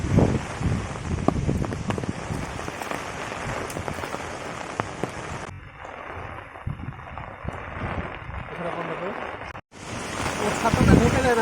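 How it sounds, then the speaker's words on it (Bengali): Heavy rain from a violent storm in Kerala pours onto surfaces with gusting wind, a dense, loud continuous roar that eases for a few seconds and then surges back, with no voices. "দেখুন কত ভয়ঙ্কর ঝড় হচ্ছে"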